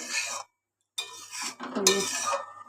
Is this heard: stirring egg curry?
yes